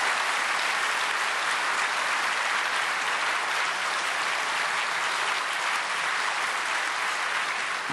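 Audience at a prayer meeting for peaceful reunification applauds to welcome a speaker to the stage, a dense, steady wash of clapping that holds evenly loud for the whole stretch with no talk over it.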